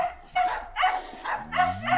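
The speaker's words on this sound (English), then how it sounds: "Tucker in the other pen is barking at Caleb" Several sharp dog barks in quick succession, loud and close, with a brief whimpering tone near the end.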